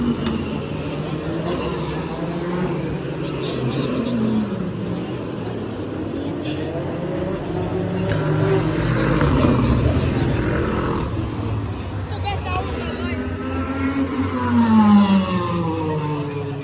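Race cars roar past one after another at the Long Beach Grand Prix, their exhausts pointing toward the listener and rising and falling in pitch, with a crowd and loudspeaker murmur in the background.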